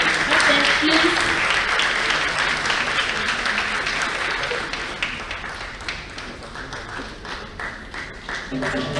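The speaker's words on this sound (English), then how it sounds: "Let's usher her in with a round of applause." Attendees at the Oxygen Africa Health Forum in Accra, Ghana give a full round of applause that starts strong and gradually thins into scattered claps, with voices murmuring underneath.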